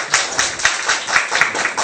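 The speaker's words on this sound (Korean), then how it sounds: "박수 한번 쳐주세요." Students clapping together in a university lecture after a team presentation, a dense, steady patter of hands that swells and eases in uneven pulses for a couple of seconds.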